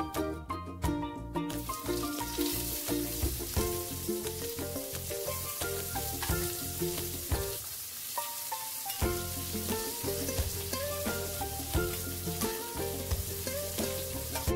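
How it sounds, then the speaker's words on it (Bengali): Chopped onion frying in hot oil in a pan, a steady close sizzle throughout, joined by strong tonal background music. A brief quieter dip comes near the middle before the sizzle returns. "এখন এতে একটা কুচনো পেঁয়াজ দিয়ে দেব।"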